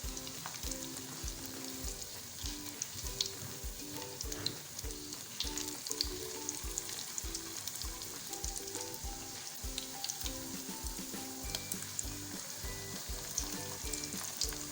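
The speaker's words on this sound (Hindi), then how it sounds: "और इसको हम फ्राई होने देंगे। तो अब हम इनको टर्न करते हैं एक एक करके।" Chicken bread cutlets fry in oil with a steady, close sizzle lasting the whole stretch, broken by soft rhythmic scrapes and taps as pieces are turned one by one.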